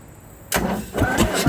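Engine of a John Deere 510B backhoe cranking over, a sudden loud onset after a quiet hum, followed by pulsing starter turns, close and strong.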